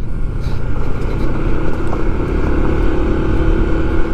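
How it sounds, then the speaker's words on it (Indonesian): Heavy trucks travel back and forth along the widened Jatigede road, making a steady, loud, low rumble of engines and tyres that continues without a break. Nobody speaks. "Ini truknya masih tetap banyak yang hilir mudik melintasi jalur ini."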